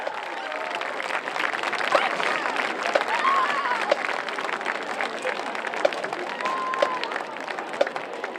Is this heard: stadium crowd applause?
yes